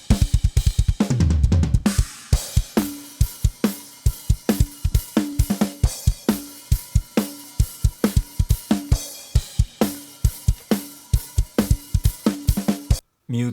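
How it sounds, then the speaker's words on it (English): A live kick drum layered with a Slate Trigger 2 sample hits in a steady, loud, punchy rhythm with a sharp attack, playing alone under a music groove for about thirteen seconds. "a short blip of sound that adds just the right attack to your live kick"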